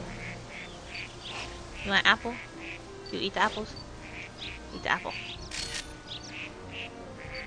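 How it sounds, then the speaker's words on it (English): Duck in the video game New Pokemon Snap, a few short quacking calls scattered over several seconds alongside light game chirps, partly under a person talking. "Oh, look at the little duck."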